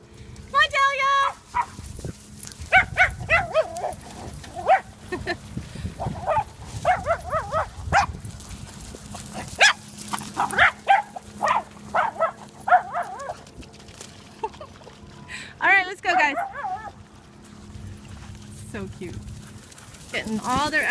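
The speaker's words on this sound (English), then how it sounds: "He loves to chase dogs." Dogs of all sizes bark and yip while running and playing off leash, including a herding dog chasing others, with scattered near and far barks under frequent talking.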